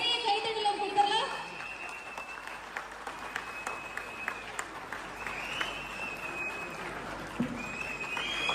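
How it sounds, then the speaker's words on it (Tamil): An audience at a political stage event claps for the speaker Seeman, a continuous round of applause at moderate distance with scattered voices underneath. "ஒரு பெரிய கைத்தட்டலும் கொடுக்கலாம்."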